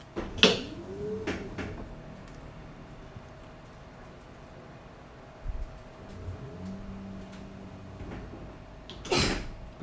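Two short, sharp sneezes, one near the start and another near the end, with a quiet room background and faint household noise between them.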